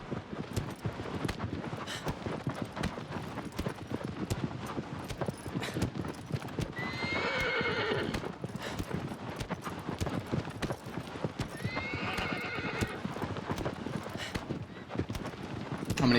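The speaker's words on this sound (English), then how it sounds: "How do you jumpstart your horse?" Horse hooves clip-clop steadily through a Shadow of the Colossus speedrun on PS4, broken twice by loud whinnies, with constant dense game noise and no voice over it.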